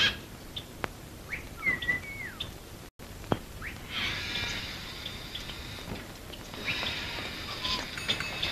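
Birds in a bird shop chirp and tweet in short bright calls, with a denser burst of overlapping trills in the second half, moderately close over soft background noise.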